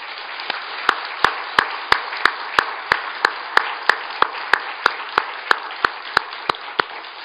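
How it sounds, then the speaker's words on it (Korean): A Korean church congregation applauds, with sharp unison claps landing in a steady rhythm of about three per second over a continuous wash of clapping, close and fairly loud throughout. "하나님께 영광의 박수를 올려드립니다."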